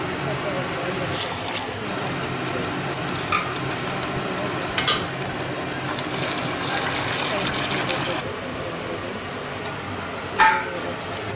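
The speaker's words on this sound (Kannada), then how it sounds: "ಬ್ಲೆಂಡ್ ಮಾಡ್ಕೊತಿದ್ದೀನಿ" An electric mixer grinds mutton keema with onion and masala in its jar, a steady, fairly loud whirring roar running the full length with brief clatters from the blades.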